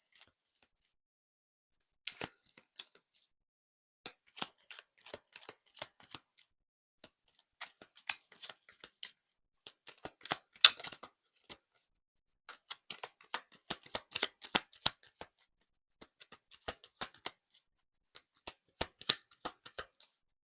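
Tarot cards are shuffled and drawn in a quiet room, with scattered soft snaps and riffling flicks coming in irregular bursts and pauses.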